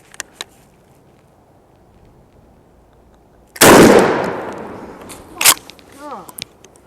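A shotgun fires a turkey load through a Carlson's Long Beard XR choke tube outdoors, one loud sharp blast that decays over a second, followed by brief handling noises and a voice.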